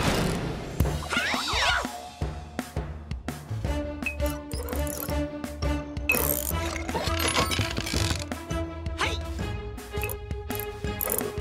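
Cartoon wrench ratcheting effect from a children's animated show about mechanical animals, a quick run of clicky mechanical ratchet and gear sounds layered over bright background music.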